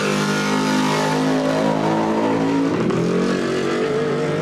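An LS-based Chevrolet V8 in a desert race truck revs hard and loud at close range, its steady roar shifting pitch as it builds and holds on the gas during a desert race.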